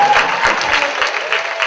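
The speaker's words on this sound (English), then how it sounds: "clap it up for having a job" A loud, brief burst of crowd applause at a collegiate poetry slam in Tallahassee, many hands clapping together in a dense, continuous wash, with a faint voice running underneath.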